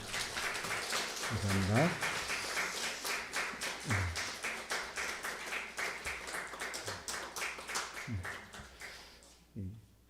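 Scattered clapping from a church congregation rises into a round of applause that tapers off, with someone speaking over it and briefly thanking the crowd.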